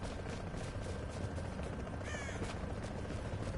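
A crow-like bird caws once near the middle, mid-distance, over steady ambient game background noise in The Division.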